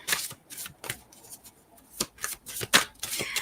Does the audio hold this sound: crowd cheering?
no